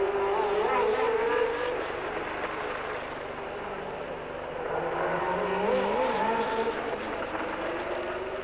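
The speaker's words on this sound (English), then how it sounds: "the Long Beach Grand Prix for World Formula One cars" Formula One cars at the 1979 Long Beach Grand Prix scream past as a dense, continuous engine roar with rising and falling pitch, steady and loud throughout with no clear voices.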